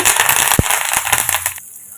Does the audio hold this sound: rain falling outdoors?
no